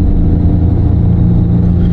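A front-wheel-drive car accelerates hard with its engine roaring loud and steady throughout, a dense continuous drone with no voices.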